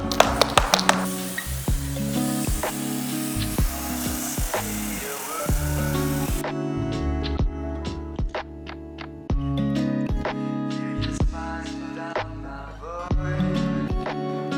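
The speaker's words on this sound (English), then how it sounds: "I'm going to spray this on, leave it to dwell for a few minutes" Repeated short sprays of pre-wash onto a matte VW Touareg R hiss close by, mixed with taps and clicks of handling, continuing steadily with brief pauses between bursts.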